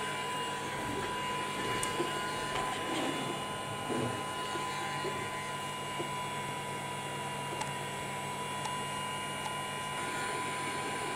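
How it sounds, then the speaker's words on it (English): Hot air gun set to 300 degrees Celsius blows onto a BGA chip on a circuit board, a steady airy hiss with a constant fan whine, close and unchanging for the whole stretch. "from the top with my hot air gun. I set it to 300 degrees Celsius, not more"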